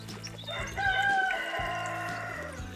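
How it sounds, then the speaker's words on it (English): A cockerel crows loudly and close by in a garden in early spring. One drawn-out crow rises and then tails off over a low, steady background hum. "Sorry for the cockerel."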